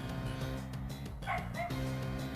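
Electronic dog barks from a Pokémon battle video game, a few yipping, bow-wow-like cries over steady game music, loud and close.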